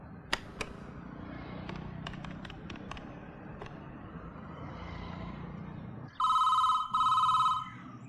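A mobile phone rings in two loud electronic bursts near the end, cutting sharply through a quiet room with faint background noise and a few soft knocks.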